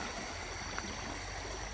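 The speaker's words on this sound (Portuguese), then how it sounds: "Cada vez tá aumentando mais a água aí, a quantidade de água chegando mais, né?" Floodwater in the Caçatuba river in Passira, Pernambuco rushes in a steady, dense roar with no pauses, heard alone.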